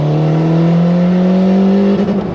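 Turbocharged 2007 Honda Fit engine revving loudly and close, a steady rising drone that climbs in pitch before easing off near the end.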